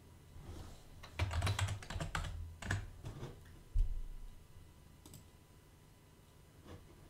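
Keys tapped on a computer keyboard while a username is entered, a loose cluster of clicks over a few seconds with a couple of isolated later taps, close and moderately quiet with no talking.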